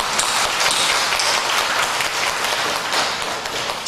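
A church congregation applauds during a worship service, sustained dense clapping from many hands that fills the hall at an even, loud level throughout.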